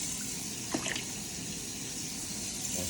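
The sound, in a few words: rinsing out a container with water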